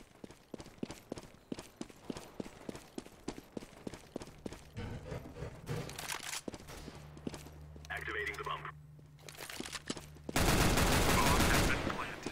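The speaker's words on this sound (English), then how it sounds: "I see shooting in the back room" Gunfire in a Counter-Strike: Global Offensive match: a rapid run of sharp shots, then a loud burst of heavier automatic fire near the end, mixed with footsteps and other game noise.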